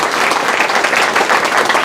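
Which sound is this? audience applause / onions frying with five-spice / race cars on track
audience applause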